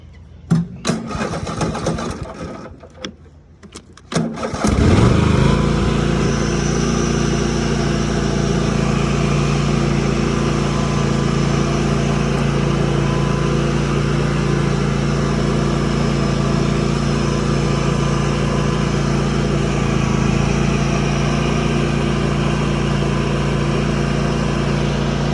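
A Husqvarna LGT2654 lawn tractor with its mower deck removed cranks and starts after a few uneven bursts, then runs at a steady loud close-up drone for a long stretch during a test drive, with no voices.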